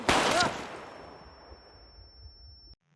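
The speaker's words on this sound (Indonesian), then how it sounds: "sebuah tembakan menyasar pada tubuh Werner, dan Werner pun tidak tertolong" A gunshot from the film De Oost, heard as a loud sharp burst with a rattling echo that fades into a quiet, lingering tail before the sound cuts off.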